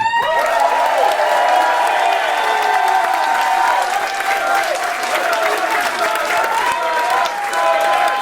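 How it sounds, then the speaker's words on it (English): Applause and cheering from an audience at a wrestling match, a sustained wash of clapping with a few whistles and shouts, loud and close, lasting throughout. "How's about a round of applause for Cork's best young wrestler?"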